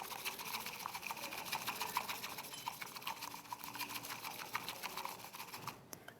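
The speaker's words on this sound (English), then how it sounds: "You use the whisk, which is made out of bamboo." A bamboo whisk briskly stirs matcha powder into frothy tea, giving a continuous fast scratchy swishing close by, fairly quiet, with no speech.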